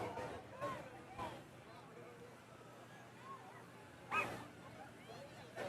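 A dog barks along the route of a community Christmas parade with horses passing, a few short faint yips heard at a distance beneath steady crowd noise and someone talking.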